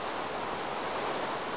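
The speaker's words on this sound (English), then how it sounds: "It's raining out." Steady rain falling in Minecraft, a dense, even hiss of broadband noise without breaks, moderately loud and continuous throughout.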